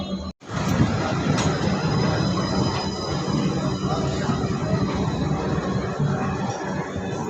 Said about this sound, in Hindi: जम्मू तवी गुवाहाटी लोहित एक्सप्रेस।